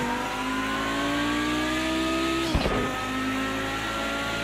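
Audi 90 Quattro IMSA GTO race car with a five-cylinder engine, droning steadily at a sustained high pitch, then a brief shift dip near the middle before the note returns and climbs again, loud and close.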